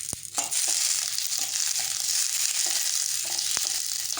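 Tomato pieces sauté in a hot pan for Thanjavur-style tomato chutney, giving a steady, loud, close sizzle and hiss throughout, with a few sharp clicks of stirring.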